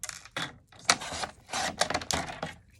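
Scissors or a paper trimmer slicing a 3 by 4 inch piece of cardstock diagonally from corner to corner, heard as a series of short crisp cutting and rustling bursts with brief pauses between them.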